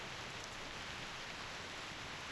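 Raindrops falling in the video game Reverse: 1999 make a soft, steady, even hiss that stays faint and constant throughout, with no voices over it.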